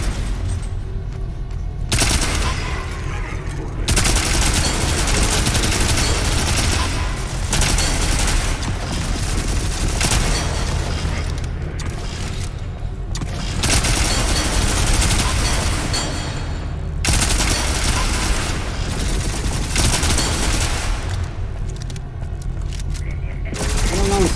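Sustained machine gun bursts in the game Volcanoids, loud and dense, with brief pauses between long volleys and mechanical clanking throughout.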